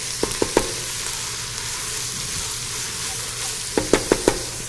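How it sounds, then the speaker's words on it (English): Vegetables sweating in a pan give a soft, continuous sizzle, with a quick cluster of utensil taps near the start and another near the end. "We're going to sweat the vegetables down."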